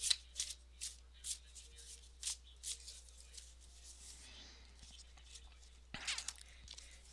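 A deck of tarot-style cards is shuffled by hand before one is drawn, giving a series of soft riffling bursts at an even pace, then a rustle and a final flurry, quiet and close.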